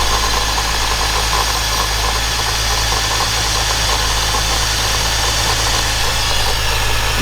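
A BMW E46 with the M54 inline-six and a G Power supercharger kit runs at a steady, loud idle after starting. The engine drones evenly throughout with a constant low rumble and faint mechanical ticking.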